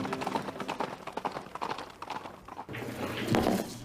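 Horse hooves clip-clop in a quick, uneven rhythm of sharp close strikes, fading into a louder, rougher rumble of movement near the end.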